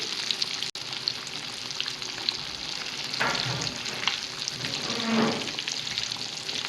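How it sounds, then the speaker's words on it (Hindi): Fish seasoned with Shan masala fries in hot oil in a pan, giving a steady, close, dense sizzle that swells slightly as the pieces are moved, with no talking. "माशाल्लाह कितनी ज़बरदस्त फिश फ्राई हो रही है।"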